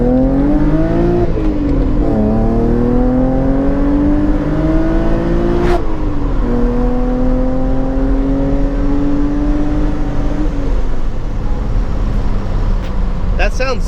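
A Honda Integra race car fitted with loud Ferodo DS2500 brake pads pulls hard on an empty open road, its engine note climbing through repeated gear changes. The engine stays loud and close throughout, with no voices over it.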